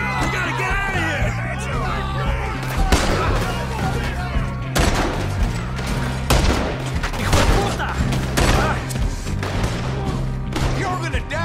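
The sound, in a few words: gunfire in a shootout, from the video game Red Dead Redemption 2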